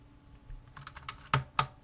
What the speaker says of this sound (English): the ASMR of me cleaning my keyboard without my annoying voice